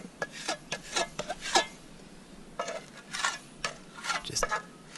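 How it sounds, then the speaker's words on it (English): Metal trowel scraping and smoothing radiant spray foam, a series of short rasping, rubbing strokes in irregular bursts, close and fairly quiet with no talk. "putting in this trowel here, trying to get it all nice and smoothed out a bit"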